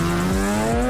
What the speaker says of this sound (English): the unmistakable sound of a high-revving engine echoes through the city